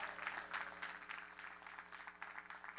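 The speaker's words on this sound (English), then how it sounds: "Let's have a round of applause for this great class." A large crowd claps steadily at a Queens College commencement, a dense, continuous wash of applause for the graduating class of 2022 that swells and dips in pulses without a break.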